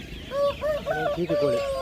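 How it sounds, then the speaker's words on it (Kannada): Native country chickens clucking at a busy Monday poultry market, a close run of short, rising and falling clucks and squawks from several birds, with people talking nearby. "ಇವೆಲ್ಲ ನಾಟಿ ಮರಿ. ಇವು ಓಕೆ, ಫಾರಂ ನಾಟಿ."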